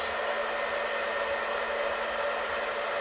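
A blow dryer runs steadily at close range, a constant airy whir with a faint motor hum, unbroken for the whole few seconds and no voices.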